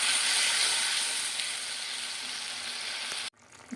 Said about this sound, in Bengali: আমি মশলাটা কষিয়ে নিচ্ছি।